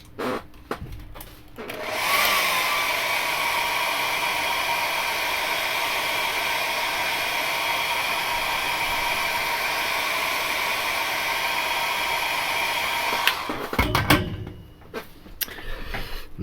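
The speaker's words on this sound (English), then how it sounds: "Let me just hair dry those." A hair dryer blows steadily and loudly for about eleven seconds to dry brush-painted Warhammer miniatures, starting with a click and cutting off near the end, with a few handling knocks before and after.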